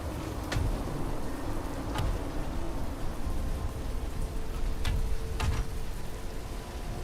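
Heavy rain pours down in the Fallout 76 video game, a constant moderate hiss of droplets broken by a few sharp ticks and taps, with no speech.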